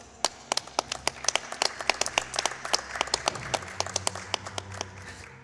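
An audience at the Summer Games Done Quick 2017 speedrun marathon claps during a Resident Evil: Code: Veronica X run, with loose, scattered handclaps from a modest crowd, moderately close and without cheering.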